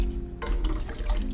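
Chopped carrots and potatoes poured into a pot of liquid for a vegan, dairy-free broccoli cheese soup: a sudden wet splash and slosh starts partway in, then brief gurgling, close and fairly loud.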